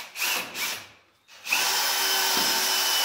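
Power drill driving screws into wall anchors while installing a handrail on a residential staircase: two short whirring bursts, a brief pause, then a sustained high-pitched drill run close to the microphone.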